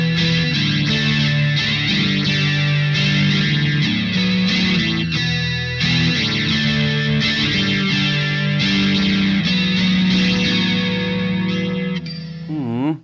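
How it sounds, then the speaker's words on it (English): Electric guitar played through a Sonicake QGT-01 multi-effects unit with reverb switched on, sustained strummed chords ringing loudly with a lush wash and shimmer, a brief trailing decay as the playing stops near the end. "Let me put a bit of reverb on and see what that sounds like."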